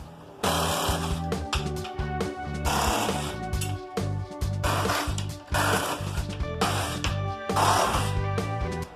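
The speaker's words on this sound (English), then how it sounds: "So what I want to do next is cut all these nails back." Steady power tool whine cutting back protruding nails on an interior wall during house addition alterations, running in several long bursts with brief pauses, loud and close, no talk.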